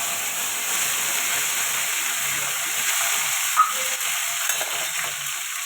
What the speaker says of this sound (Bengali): চিংড়িগুলো ভেজে নিলাম।